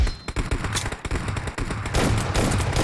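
Shotgun fire in the mobile battle-royale game PUBG Mobile during a team deathmatch, a dense run of loud, close blasts and thumps packed together in rapid succession with no pauses.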